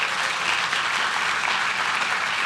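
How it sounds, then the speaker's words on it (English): A crowd applauds a girls' wrestling team at a city council meeting, with steady, dense clapping sustained evenly throughout without pauses. "let's give a round of applause to the Valley Girls wrestling team"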